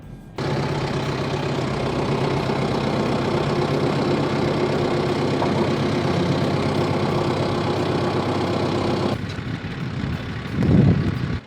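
A tractor engine runs at a steady idle while the tractor is loaded onto a Diamond C dump trailer, a continuous mid-low drone that cuts off abruptly, followed by a short thump or rumble.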